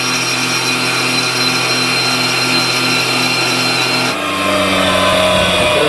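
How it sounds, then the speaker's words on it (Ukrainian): An internal grinding machine grinds a workpiece's end face with a steady, loud, continuous whine and hum, its pitch and texture shifting partway through as the wheel engages differently; no talk. "Так, шліфуємо торець."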